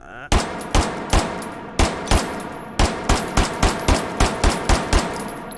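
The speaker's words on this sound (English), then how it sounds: "the redimensioned super duper illegal full auto Tech 9" A full-auto Tec-9 firing in the video game H3VR, several loud single shots spaced apart, then a quick rhythmic burst of about a dozen evenly timed reports, close and sharp with no speech.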